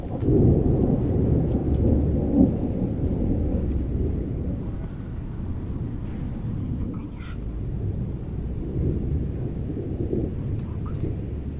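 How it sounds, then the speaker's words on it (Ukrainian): Low, continuous rolling thunder rumbles on and on with rain pattering underneath, no talking. "Блискавки мигають, грім, горкотить безкінечно."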